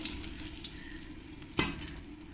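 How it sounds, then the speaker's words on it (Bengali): Pieces of katla fish fry in a little oil with a soft, steady sizzle, and a single sharp clink of a utensil against the pan partway through. "এবার পরের মাছগুলো আমি একই রকম করে ভেজে নেব"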